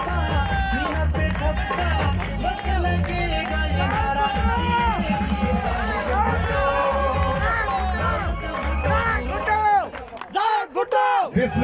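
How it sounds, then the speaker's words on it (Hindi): A large crowd at a political address in Pakistan roars and cheers continuously, dense and loud, with music or chanting underneath, dropping off near the end. "आप सबकी तालियों में भुट्टो"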